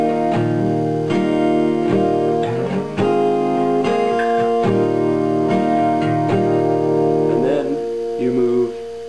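Chords on a guitar ring out in the intro of a song, strummed in a steady rhythm with short breaks between them, played clearly and alone with no voices.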